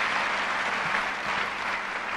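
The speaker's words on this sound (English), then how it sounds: "a big round of applause for Sitara Baruj Akbar" Loud, dense applause from an assembly audience welcoming a young student for an address to Prime Minister Yousaf Raza Gillani and the National Assembly, many hands clapping in a close, unbroken wash with no talk.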